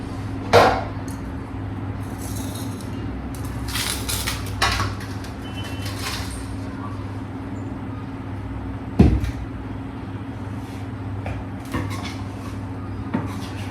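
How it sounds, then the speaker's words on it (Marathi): Roasted gram flour (besan) is sifted bit by bit through a sieve, with soft scraping and tapping and a few sharp metallic knocks against the pan, close and without talk. "मी इथं गॅस बंद करून याला थोडं थोडं करून चाळून घेते"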